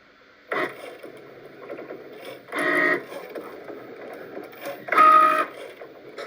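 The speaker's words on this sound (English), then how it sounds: "the go button. And the machine is going to start working." An iron-on transfer machine starts working, with three separate bursts of mechanical whirring and humming, each lasting about half a second, separated by quieter stretches of low mechanism noise. Nobody speaks.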